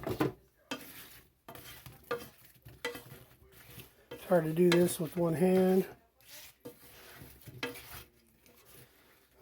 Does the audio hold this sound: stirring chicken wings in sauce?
yes